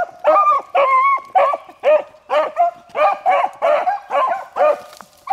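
Beagles running along railroad tracks bark and bay in a rapid series of about a dozen howling yelps, fairly close and continuous, with no talking over them.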